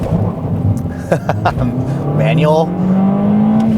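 A 2019 Toyota Corolla with a manual gearbox revs its engine in a steady, rising climb after a brief spoken word over cabin noise.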